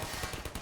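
Rapid burst of gunfire from a weapon in the video game Half-Life 2, several quick close shots in a tight rhythm over less than a second.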